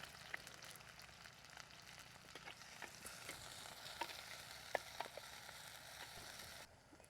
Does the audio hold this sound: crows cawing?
no